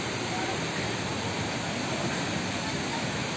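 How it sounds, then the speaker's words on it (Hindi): Water flows steadily at Bamni Falls, a waterfall in Purulia, West Bengal, giving a continuous broadband rush that stays even throughout, with no distinct splashes. "ये कलकल बहता हुआ पानी"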